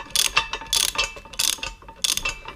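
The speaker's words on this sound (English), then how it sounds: "14mm socket, we can tighten this nut." A ratchet with a 14mm socket tightens a nut on a trailer hitch being installed on a 2018 Toyota Highlander. Four close, loud bursts of rapid clicking come in quick succession.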